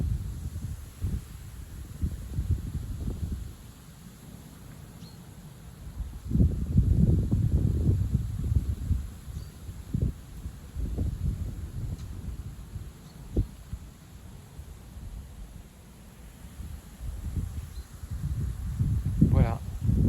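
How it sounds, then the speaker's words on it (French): A moderate south wind of about 55 km/h blows through bare, leafless trees on a mild December afternoon, producing an irregular low rumble of gusts that swell and fade. "Donc voilà le vent qui lève bien le bout de son nez là."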